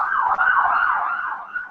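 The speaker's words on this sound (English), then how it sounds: "Oh, the South London sirens." An emergency vehicle siren wails in South London, a steady undulating tone heard from a moderate distance on its own, with no talking.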